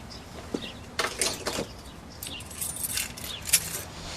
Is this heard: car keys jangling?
yes